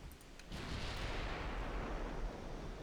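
A battleship's main guns fire a salvo in the naval game Ultimate Admiral: Dreadnoughts, a brief crackle followed by a sustained, loud, low rumbling boom that rolls on for seconds, with no voices over it.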